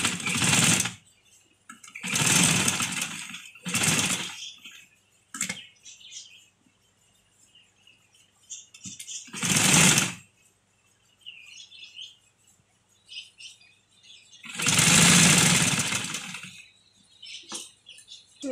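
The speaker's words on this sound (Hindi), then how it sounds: "सिलाई यहाँ से शुरू कर ली," Sewing machine stitching the folded edge of a dupatta, running in several loud bursts of steady whirring separated by pauses, close and clear with no talking over it.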